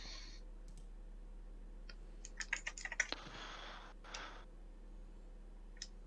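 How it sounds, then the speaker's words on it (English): A short burst of rapid keyboard typing, crisp clicking keys close by, in an otherwise quiet room. "Somebody's typing."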